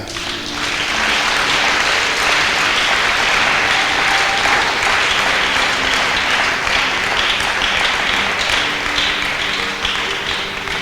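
A church congregation applauding during a sermon, steady loud clapping that holds evenly throughout with no talk over it.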